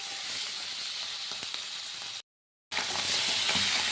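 Small mourola fish marinated with chili powder fry in mustard oil, giving a constant dense sizzle and crackle that cuts out briefly and resumes just as loud.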